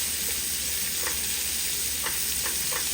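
Colossal shrimp frying in a hot pan for jambalaya pasta, giving a steady, close broadband sizzle throughout with a few faint utensil taps and stirring sounds.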